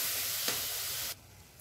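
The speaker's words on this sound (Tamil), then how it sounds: "தக்காளி நல்லா வதக்கணும்." Chopped tomatoes sautéing with chili powder in a pan for an egg curry, a steady close sizzle that drops abruptly to a quieter simmer near the end.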